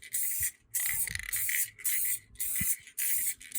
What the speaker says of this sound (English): Just a light spray down the center third